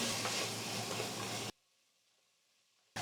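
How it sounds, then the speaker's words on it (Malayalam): Tomatoes, green chillies, mint and coriander sizzle in a pan, a steady loud frying hiss that stops abruptly for a moment of near silence before resuming. "ഇനി ഇതെല്ലാം കൂടെ നല്ലതായിട്ടൊന്ന് വഴറ്റാം"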